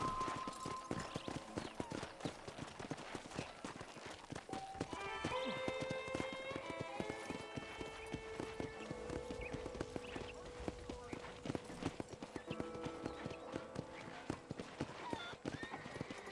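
Horse hooves clip-clopping at a steady pace in Red Dead Redemption, close and rhythmic, with a brief whinny and a voice talking over them.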